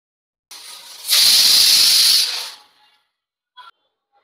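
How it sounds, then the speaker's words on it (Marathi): A pressure cooker full of rice vents steam in a single hissing whistle that swells, holds loud for about a second and a half, then fades, followed by a short faint puff. "आता आपण ही शिट्ट्या 2-3 शिट्ट्या करूया आणि आपला राईस तयार होतोय"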